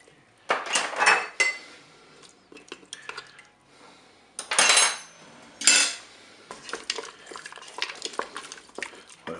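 A spoon stirs a thickening cornstarch sauce with mustard pork chops in a Cookeo multicooker pot, giving irregular scraping and clinking bursts against the pot, close and moderately loud with quiet gaps between strokes.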